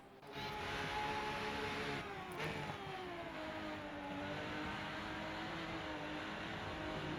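A Porsche GT3 race car in the sim racing game RENNSPORT on the Nordschleife, engine droning steadily at high revs with smooth pitch shifts as it holds speed, fairly faint and without talk.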